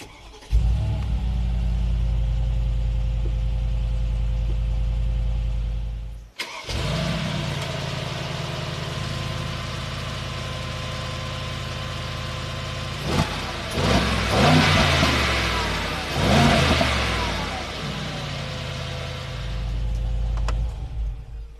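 A 2023 Mercedes-AMG G63 4x4 squared in Sport Plus mode: a deep idle, a sharp cut-off, then a loud engine start that settles into a rumbling idle with several strong revs rising and falling nearby.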